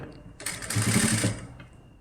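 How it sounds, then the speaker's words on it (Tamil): A sewing machine runs one short burst of stitching on a dress neckline, a close, loud whirring hum lasting about a second that then winds down. Someone talks underneath it. "ஒரு படிமான தையல் மேலே போட்டுட்டு வரலாம் நீங்கள்"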